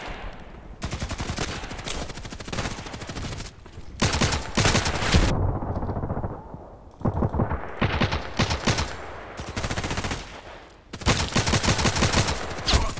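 Long automatic bursts from a weapon in the shooter game Contract Wars, loud and close, with rapid continuous firing broken by short pauses between volleys.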